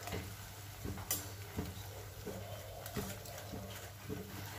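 Quiet scraping of a spoon stirring red chili powder into frying masala for a dhaba-style cashew curry, soft periodic strokes over a low steady sizzle, close by with no talk.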